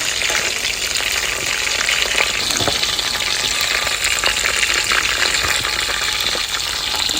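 Steady, dense sizzling of turmeric chicken frying in hot oil, loud and close, with an occasional stir or clink, no voices.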